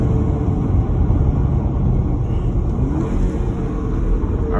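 Porsche Macan SUV driving on the road, steady broadband engine and road rumble carried in through an open window, loud and continuous with no talk.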